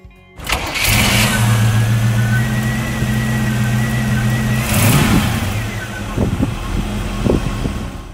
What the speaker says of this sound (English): This is a 1935 Chevy Deluxe.